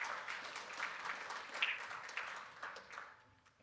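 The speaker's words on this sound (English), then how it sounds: "Hey, give them a round of applause." A short burst of audience applause, dense clapping heard from a distance that fades out toward the end, with no talking over it.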